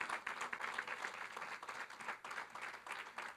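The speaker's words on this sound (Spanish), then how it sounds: "Dele el aplauso al Señor." Church congregation applauding the Lord after a musician's performance, a dense steady wash of many hands clapping for a few seconds with no talk.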